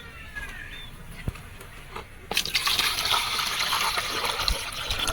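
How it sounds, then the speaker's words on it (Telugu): Water gushes steadily into a plastic bucket trap for coconut rhinoceros beetles. It starts suddenly partway through and continues as a close, loud, continuous rushing fill after a quiet start. "ఒక లీటర్ అయింది వాటర్ చాలు"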